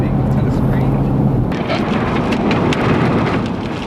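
Heavy rain from a thunderstorm roars loud and steady during a storm chase near Amarillo, Texas, with low rumbling beneath and a voice talking over it.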